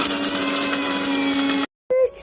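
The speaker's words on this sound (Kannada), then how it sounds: "ಫಸ್ಟ್ ಇದನ್ನು ಗ್ರೈಂಡ್ ಮಾಡ್ಕೊಂಬರ್ಬೇಕು" A mixer grinder whirs loudly and steadily while grinding ingredients for a cocoa milkshake, then cuts off abruptly and briefly restarts before winding down.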